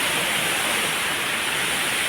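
Steady rushing water at Sundha Mata in Rajasthan, a continuous broadband roar of falling or flowing water, close and loud throughout with no voices.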